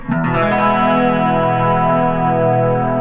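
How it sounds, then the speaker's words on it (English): A single distorted electric guitar chord strummed slowly so each note lands slightly apart, then ringing out and sustaining with a heavy effects-laden tone. "You just pull it across the strings and slightly separate each note"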